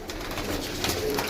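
Pigeons with new feathers coo on a rooftop loft, soft low calls close by under a broad hiss of outdoor noise.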